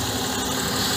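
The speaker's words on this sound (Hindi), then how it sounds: "इंजन नॉइस आप सुन सकते हैं कितनी आ रही है गाड़ी में" A Renault Kiger's 1-litre petrol engine idles with the air conditioning running, a steady low hum with broadband noise, brief and even, heard from inside the car.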